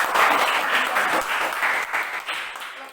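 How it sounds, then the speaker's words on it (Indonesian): A class of students claps for a student group in a classroom, a dense burst of applause that fades out after a few seconds. "Oke, tepuk tangan untuk kelompok"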